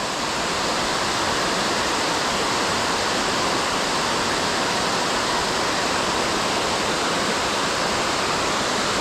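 Water roars steadily over a dam, a loud, constant rushing wash that continues unchanged throughout, with no voices.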